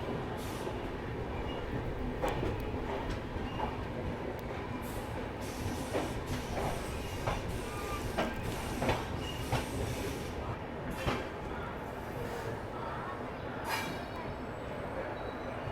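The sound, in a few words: train, Bihar Sampark Kranti Express led by WAP4 locomotive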